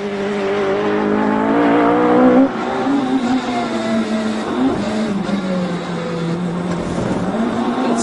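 Engine of a front-wheel-drive Promotive R1 Mini racer revs hard on circuit, a loud buzzing tone that climbs, drops sharply at a gearshift, then holds a steadier pitch as the car carries on.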